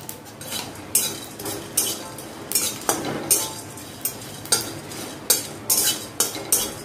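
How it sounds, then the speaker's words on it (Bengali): A spoon stirs and scrapes cinnamon and cloves frying lightly in a pan, giving sharp metallic clinks in an irregular rhythm over a faint steady sizzle, close and alone. "সামান্য একটু ভাজা ভাজা করে নেব।"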